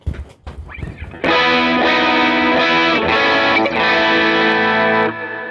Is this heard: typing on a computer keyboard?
no